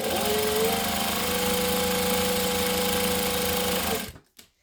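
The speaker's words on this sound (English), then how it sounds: "So I'm just stitching 1/8 of an inch from the edge." A sewing machine stitching fabric 1/8 inch from the edge of a strap, running loud and steady with a fast even hum and rattle for about four seconds before stopping abruptly, followed by a small clunk.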